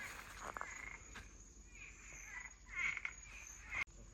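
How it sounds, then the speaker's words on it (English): Cuban tree frogs call in the Bahamas at night, faint, distant croaks repeating irregularly over a steady insect and ambient hum. "I think these are Cuban tree frogs we're hearing"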